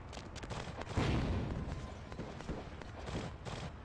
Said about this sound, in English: da war eine Explosion, die hat ihn abgeschreckt